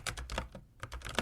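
Keys clatter on a computer keyboard as a project name is typed into a labeling app, a quick run of close, crisp clicks with a short pause midway.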